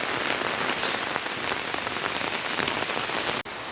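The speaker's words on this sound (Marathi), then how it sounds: "पाऊस आहे ना प्रमाणाच्या बाहेरच पडतो." Heavy rain pours steadily on surfaces near a river in rural Konkan, a dense, even hiss close by and loud throughout with no voices.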